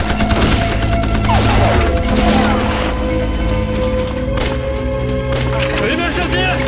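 Gunfire in a kung fu war film about anti-Japanese fighters storming a village, dense overlapping shots and crackling bursts layered over a loud soundtrack of music and commotion throughout.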